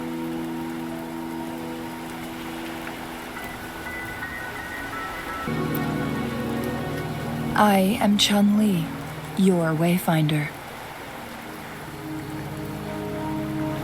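Steady rain falls in the game Wuthering Waves, a soft continuous hiss that grows fuller partway through, with people talking over it.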